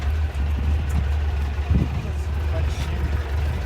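A 1967 Cal Look Volkswagen Beetle engine runs with a steady low rumble from inside the cabin while cruising, mixed with road noise and brief voices.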